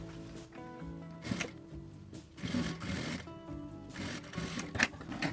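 A sewing machine runs in short bursts, stitching a straight seam along the edge of bias binding on a cosmetic case. Its close mechanical whirr starts and stops several times.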